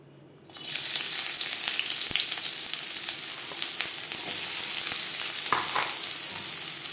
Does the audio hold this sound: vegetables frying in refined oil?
yes